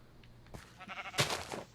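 A sheep bleats in the Minecraft video game: a few faint, close, wavering bleats, the longest near the end, with soft game sounds between them.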